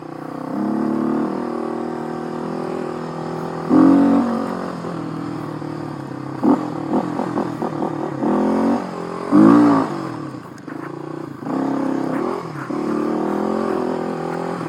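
Kawasaki KLX 250 dual sport motorcycle engine bogging on a rooty trail, a loud, near, steady putter that surges and sags in uneven revs with brief throttle blips, the rider's voice absent.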